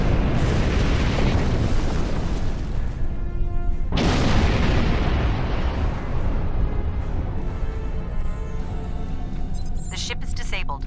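A starship explodes in Star Trek Online: a loud, deep blast erupts and rolls on, a second booming burst hits a few seconds later, and a long rumbling decay follows, with a voice speaking over it.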